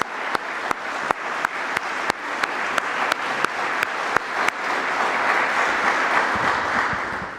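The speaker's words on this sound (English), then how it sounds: "let's give them both one more round of applause" Rhythmic single claps beat out evenly at first, then swell into a broad, sustained round of audience applause at a lecture event, loud and close with no talk over it.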